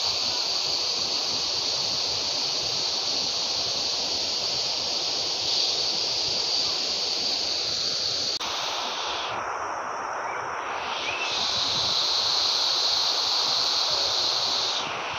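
Water features flow in KLCC park in Kuala Lumpur, Malaysia, making a continuous, even rushing hiss of splashing water that stays steady and fairly loud throughout, with no speech.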